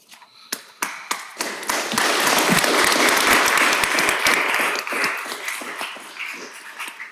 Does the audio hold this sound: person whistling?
no